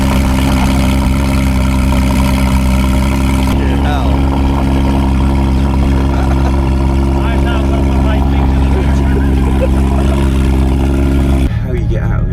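A car engine runs at a steady, loud idle throughout, a low constant rumble with a brief shift near the end; a voice speaks briefly over it.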